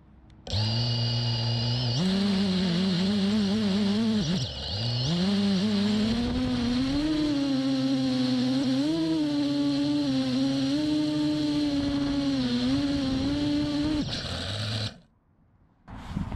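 A Hyperlite Glide 6-inch FPV drone spins up for a test hover, its motors holding a loud, steady whine that rises and wavers in pitch for about fourteen seconds before cutting off sharply.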